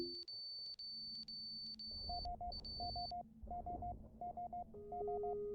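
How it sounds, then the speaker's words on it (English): A pressure sensor alarm sounds in the spaceship salvage game Ostranauts as steady electronic tones. A high beep repeats in quick bursts, then gives way to a lower chiming triple-beep pattern over a faint hum, with no voice. "Oh, that's a pressure sensor alarm."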